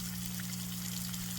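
Water from an aquaponics sump pump pours back into a grow bed that feeds a bell siphon, a steady close trickle and splash running without a break under a constant low electrical hum.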